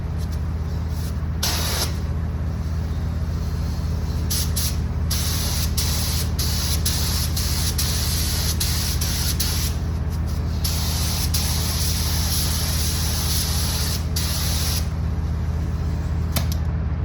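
A spray gun lays a wet coat of paint onto a vehicle body under repair, a steady, loud continuous hiss with brief pauses and short restarts, over a low constant compressor or shop hum.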